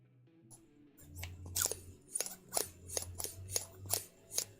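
Damaged fabric scissors clack as they cut, giving a sequence of sharp, close snips and clicks, about eight in an irregular rhythm, over a faint low hum.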